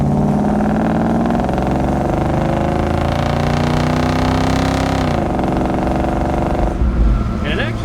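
A 1973 Chevelle Deluxe with its numbers-matching 350 cubic inch V8 and upgraded dual exhaust drives along, a steady loud engine drone with a brief shift in pitch near the end, and a voice talks over it.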